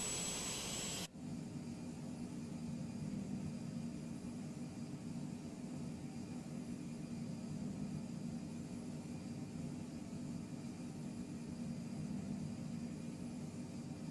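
A Mustang aircraft flying in Microsoft Flight Simulator 2020 gives a steady, unbroken engine drone with a broad rushing hiss, constant in level throughout and with no voices.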